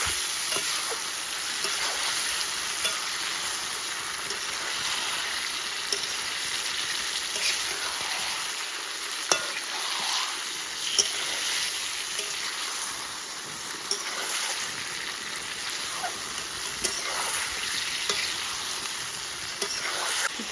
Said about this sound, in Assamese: আমাৰ মাংসখিনি গোটেইখিনি দি দিলোঁ এতিয়া ভালকৈ ভাজি লগাব লাগিব